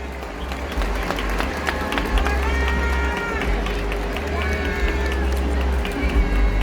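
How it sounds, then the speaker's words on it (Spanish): A crowd applauds outdoors at the Vigo Christmas lights switch-on, with steady clapping and a murmur of voices and cheers mixed in over a low background rumble. "¡Aplaudirle!"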